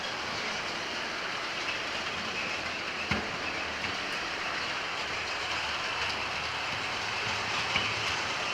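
A model train runs along layout track with a steady, soft rolling rumble and faint rhythmic wheel clatter, continuous and fairly close, with one sharp click partway through.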